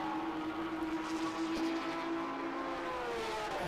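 Race cars in the International GT Sprint at Road Atlanta circuit accelerate at full throttle, producing a steady, distant engine drone with a rising pitch sweep near the end and no talk.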